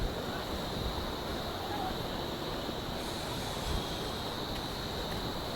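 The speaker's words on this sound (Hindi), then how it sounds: "तो शायद ये दूसरी नदी है।" A river in Urgam Valley rushes in a steady, moderately distant broadband wash, with a constant hiss of flowing water and faint wind.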